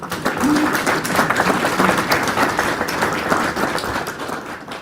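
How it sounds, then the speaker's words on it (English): A room of attendees at a transportation department tour meeting claps for a visiting team, giving a steady, moderately loud wash of applause for several seconds, with a faint bird-like chirp near the start. "give a round of applause to this amazing team from Washington"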